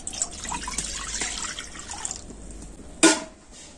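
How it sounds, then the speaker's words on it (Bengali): Water poured into a kadai (wok) while making suji bhapa pitha, a steady splashing pour with a sharp clank partway through, close and fairly loud with no talk. "আর কড়াতে আমি এখন দিয়ে দিচ্ছি জল।"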